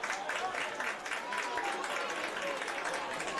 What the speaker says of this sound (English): the fans applauding